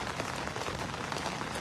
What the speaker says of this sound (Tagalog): Malakas yung ulan dito mga idol.